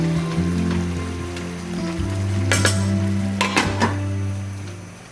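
Wild mushrooms fry steadily in a pan, a continuous close sizzle over a low hum, with a few sharper crackling bursts in the middle.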